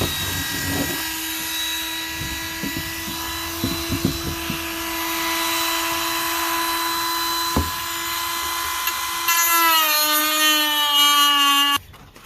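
A Dremel rotary tool whines at a steady high pitch while grinding a Gen 1 Mazdaspeed 3 GT headlight housing, with intermittent contact bursts and a rising pitch change near the end before cutting off.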